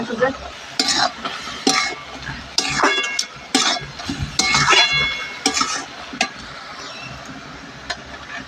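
Spiced food with turmeric, salt, sugar and ground ginger, cumin and chilli paste being stirred in a cooking pan, a close, repeated scraping and clatter of a spoon against metal over a soft sizzle, no speech.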